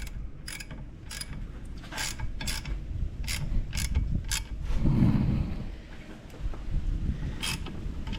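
A quarter-inch drive ratchet turns bolts on an outboard motor's water pump housing, giving quick clicking bursts in a loose rhythm, close up with a low mechanical rumble underneath and no talk.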